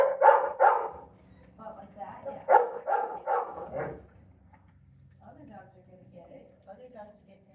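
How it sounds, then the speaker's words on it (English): A dog barks in a house, a quick pair of sharp barks followed by a second burst of several barks, then softer whimpering yips, with a person talking underneath. "Can I just let him bark?"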